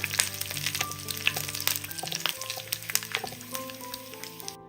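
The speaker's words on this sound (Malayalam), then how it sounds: "രണ്ട് വറ്റൽ മുളക് രണ്ടായിട്ട് മുറിച്ചതും കൂടി ഇട്ട് കൊടുക്കുക ഒന്ന് ഇളക്കി കൊടുക്കുക" Onions and halved dried red chillies fry over a medium flame, a close crackling sizzle broken by clattering stirs in the pan, with soft music playing underneath.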